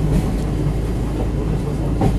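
A tourist train in Quiberon rolls along the rails into the terminus over points and several tracks, a steady, loud rumble with faint clicking from the wheels.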